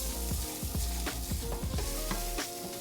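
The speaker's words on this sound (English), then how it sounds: "Now you can add the rice and we're gonna toast it for a couple more minutes" Risotto rice with shallot toasts in olive oil, a close, even sizzle overlaid with a rapid series of scraping stirs and small knocks against the pan, fairly loud and with no voices.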